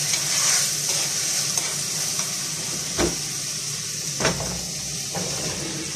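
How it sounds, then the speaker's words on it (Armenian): Potatoes and red pepper fry in a pan and are stirred, giving a steady close sizzle with a few scraping knocks from the utensil against the pan. "Նորից եմ խառնում,"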